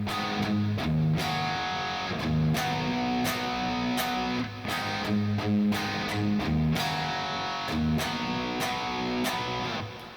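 A heavily distorted electric guitar chugs through a riff, repeated power chords with a little ghost note and brief muted gaps between hits, loud and close.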